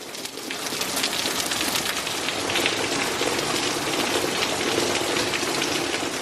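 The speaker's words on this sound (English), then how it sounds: "That sweet, gentle rain turned into a severe thunderstorm" Steady rain patters and hisses on surfaces close by, a dense unbroken downpour with a faint bird cooing underneath.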